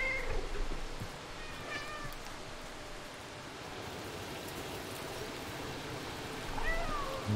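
A cat meows a few times in the video game Stray, short rising calls early on and again near the end, over a steady rain-like ambient wash.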